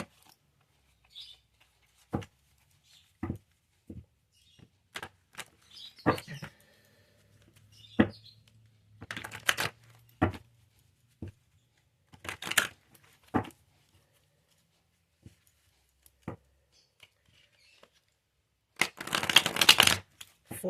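Tarot cards handled during a Virgo reading, heard as scattered soft slaps and flicks with quiet gaps, building to a dense burst of riffling near the end.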